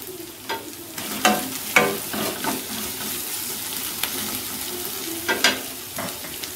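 Ginger-garlic paste fries in a pan for dhaba-style mixed Punjabi dal tadka, a soft sizzle beneath repeated spoon scrapes and knocks against the pan, several louder strokes standing out.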